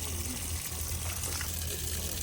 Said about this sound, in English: That is a lot of water, mucho agua. Still coming full strength.